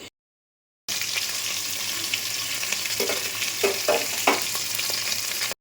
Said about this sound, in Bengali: এখানে দেখো একদম ছোট ছোট করে কেটে ইলিশ মাছ ভেজে নিচ্ছি